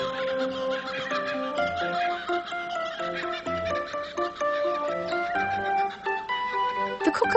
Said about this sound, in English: The Kookaburra has a call very similar to the sound of a person laughing.